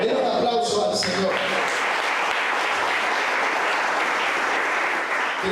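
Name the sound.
church congregation applauding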